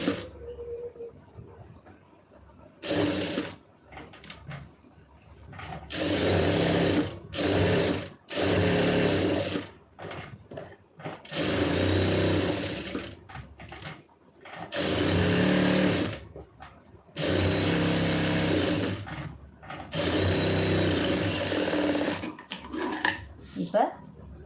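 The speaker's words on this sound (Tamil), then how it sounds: "இப்போ சுற்றி வந்து ஓட்டிடலாம்." A sewing machine stitches around a lined blouse in rapid, loud whirring bursts of a few seconds each, separated by short pauses, with occasional quiet speech between runs.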